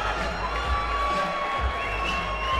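Fans cheer and shout throughout at a live fight event, a dense, continuous roar of crowd noise with scattered whoops.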